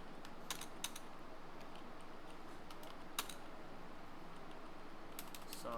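Quiet, faint clicks from a computer keyboard as text is typed, scattered irregular keystrokes over a soft steady hiss with no one speaking.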